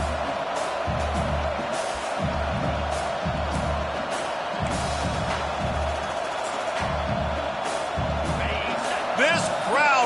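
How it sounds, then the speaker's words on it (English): Dense stadium crowd roar at a Texas Longhorns versus Rutgers college football game, sustained and loud throughout as fans push for a fourth down stop, with a low rhythmic pounding and a commentator talking over it. "This crowd busting the decibel meter and trying to will a fourth down stop"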